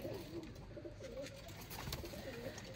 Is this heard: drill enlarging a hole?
no